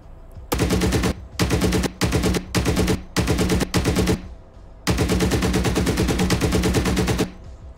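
A BRDM armored vehicle's machine gun in a war video game fires loud, close bursts: several short rattling volleys with brief pauses, then one long sustained burst, with no talking.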